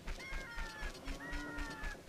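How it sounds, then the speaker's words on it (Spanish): Bird calls in The Legend of Zelda: Ocarina of Time, two clear sliding whistled cries in a row, each held and gently falling, over a quiet soft background. "Ese sonido de las aves viajeros"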